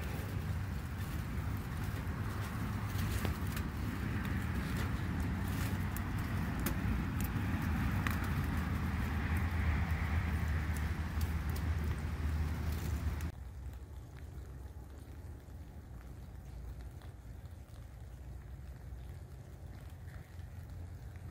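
Wind whips and roars steadily around a hot tent for about thirteen seconds, then drops abruptly to a quieter, muffled background hiss with occasional faint gusts.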